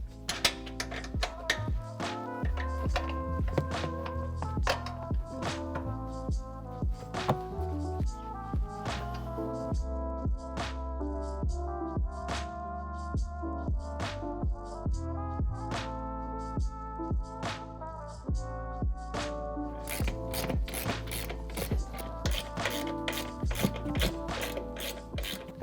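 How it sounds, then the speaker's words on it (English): A wrench and socket loosen strut nuts on a Ford F150 during a suspension install, producing steady ratcheting clicks in quick repeated runs, close and distinct, with metallic ticks and knocks between strokes. "I'm going to use an 18mm wrench to break these free, and then we can use a socket to get it all the rest of the way off"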